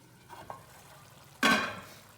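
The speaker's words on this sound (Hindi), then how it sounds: "इसकी अच्छी तरह भुनाई करनी है ताकि इसको असर भी इसमें आ जाए और ये जो है ना कच्चा भी ना रहे" Spice masala with dried coriander stirred in hot oil and ghee in a pan, a couple of soft scrapes followed by a loud, sudden sizzle as the mixture is turned over.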